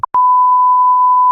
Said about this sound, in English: Hear this buzzer on the count of 2.